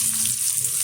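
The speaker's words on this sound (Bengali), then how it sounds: "এখন এর মধ্যে দিয়ে দেবো কুচিয়ে রাখা কিছুটা নারকেল" Chopped coconut fries in hot oil with panch phoron spices, giving a brief, close, steady sizzle with no voices.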